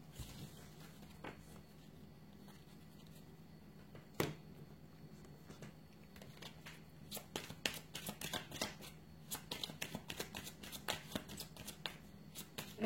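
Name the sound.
shuffling cards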